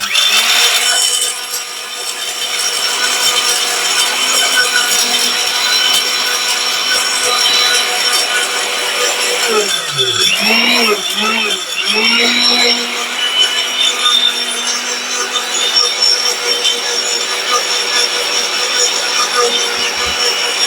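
Mixer grinder grinding shahi masala spices, a loud continuous motor whir with rattling grit, its pitch dipping and wavering briefly midway before steadying, close and sustained throughout.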